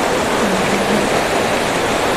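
Loud, continuous rush of stream water near Simong village in Upper Siang, a dense, even roar close by with no voices over it.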